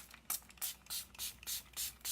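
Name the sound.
spraying water from a spray bottle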